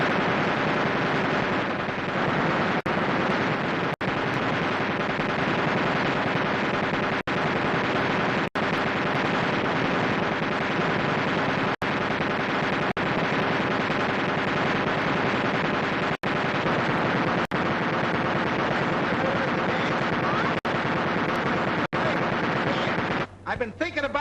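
Guns firing bullets at a target, sharp isolated shots cracking every couple of seconds over a dense, loud, continuous roar of background noise.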